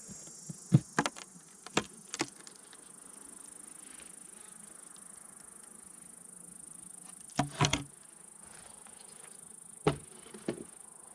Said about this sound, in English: There's a couple bees in here.